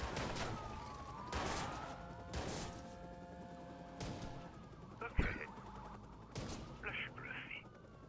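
Sniper fire in Watch Dogs: a few faint, spaced shots with low thuds and a sharper crack, heard quietly under background game music and soft talk.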